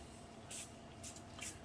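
Accelerator sprays onto adhesive on a patch over a poly tank, giving three short, soft hissing bursts over a low background hum.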